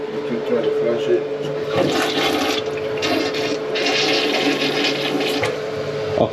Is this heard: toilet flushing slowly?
yes